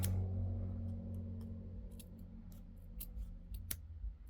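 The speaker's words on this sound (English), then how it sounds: "I'm just cutting the basic circle shape" Scissors snip through beadwork backing while cutting a circle shape, making a series of crisp, close, irregularly spaced clicks over a low steady hum.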